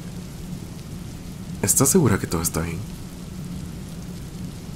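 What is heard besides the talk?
rain falling outside a house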